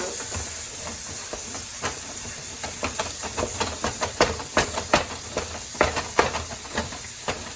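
Ground meat with Italian seasoning browning in a pot for Texas-style chili, a constant steamy hiss and sizzle broken by irregular scraping knocks as a utensil breaks up the meat, close and busy.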